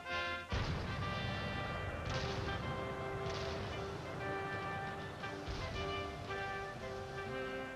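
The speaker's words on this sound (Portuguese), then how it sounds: "os disparos de um canhão alertaram toda a Paris" Cannon shots fired across Paris to announce a royal birth, booming in a few heavy bursts over a continuous orchestral music bed.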